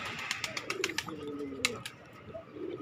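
Jalali pigeons perched in trees cooing softly, a few low murmuring coos over faint outdoor background with light bird chirps, moderately distant.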